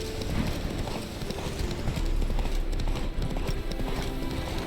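Horse hooves clip-clop in a steady, fast rhythm in The Witcher 3: Wild Hunt, close and continuous, with no talk over them.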